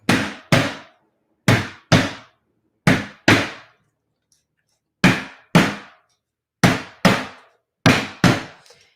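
Sharp metal-on-metal hammer strikes on a small wire heart earring, landing in quick pairs with pauses between, close and loud with short ringing decay and no talking.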